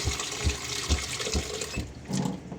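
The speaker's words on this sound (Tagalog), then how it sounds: "Nalagay tayo ng tubig." Water is poured into a cooking pot for chicken tinola broth, splashing in a steady run with a few louder gushes and a brief lower burble near the end.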